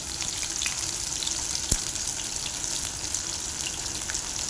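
Shallots sauté in a pan with a steady, close hiss of frying oil and one sharp clink partway through; the sizzle stays even throughout, with no speech.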